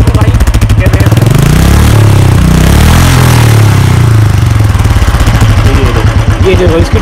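A motorcycle started on its self-starter and revved, nine years old yet still strong, the engine chugging loudly and close with a steady thumping beat, rising and falling through revs over the full length.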